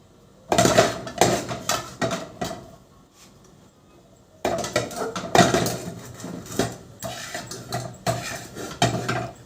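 A thick halawa mixture poured from a pot into a greased metal tray, with bursts of close metallic clanking and scraping, a brief lull near the middle, then more clatter.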